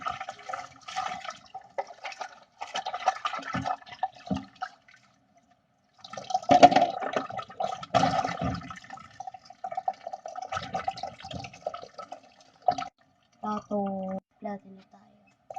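Tap water runs in short bursts while plates are washed, with close splashing and trickling broken by pauses and a voice talking over it.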